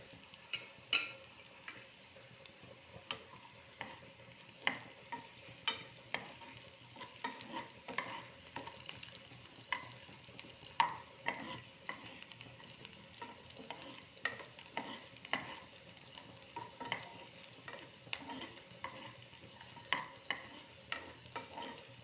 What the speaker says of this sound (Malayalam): അതേ ചട്ടിയിലേക്ക് കുറച്ച് വെളിച്ചെണ്ണ ഒഴിച്ച് കൊടുത്തിട്ട് നമ്മൾ അരിഞ്ഞ് വെച്ച ഇഞ്ചി, പച്ചമുളക്, വെളുത്തുള്ളി, കറിവേപ്പിലേക്ക് ഇട്ട് കൊടുക്കാം.